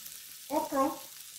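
Okra frying in a pan for Jamaican callaloo-stuffed fish gives a soft, steady sizzle, with a short tonal burst in the middle of the brief moment.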